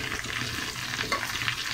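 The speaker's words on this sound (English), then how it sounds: "That's why you need to flip and flip and keep flipping." Swedish meatballs frying in a pan while being flipped and turned, a continuous close sizzle with soft scraping and knocking of the utensil, no voices.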